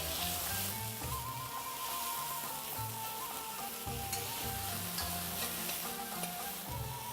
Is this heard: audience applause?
no